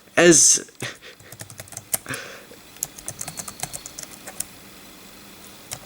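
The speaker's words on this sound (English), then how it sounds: "Keyboard test!" Rapid irregular clicks of a computer keyboard being typed on, close and crisp, following a brief loud voice at the start.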